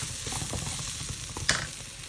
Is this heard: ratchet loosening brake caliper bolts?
no